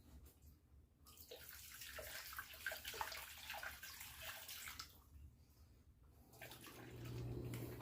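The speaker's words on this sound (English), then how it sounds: "Actually, I got to add a little bit more water." Water runs into a tub from a tap in a continuous, fairly quiet rushing flow that swells and eases a little over several seconds, heard alone and close by.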